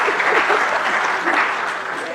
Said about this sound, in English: please welcome him with a clap